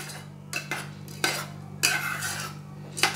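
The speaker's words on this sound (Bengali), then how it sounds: "আবার মিশিয়ে নিচ্ছি।" A spoon stirring oats and apple porridge in a pot, with several distinct scraping clinks against the pan spaced irregularly over a low steady hum.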